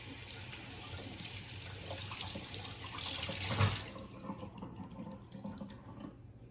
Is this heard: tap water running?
yes